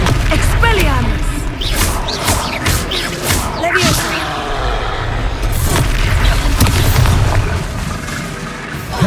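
Expelliarmus disarming spell cast during combat in the video game Hogwarts Legacy, a loud whooshing magical burst with booming impacts and thuds, amid dense layered battle effects and music that continue throughout.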